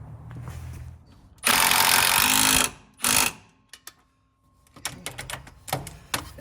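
Upper control arm bolts on a Jeep Wrangler JL are tightened with an 18mm socket during a lift kit install: two loud buzzing tool bursts followed by a run of sharp, close clicks and taps.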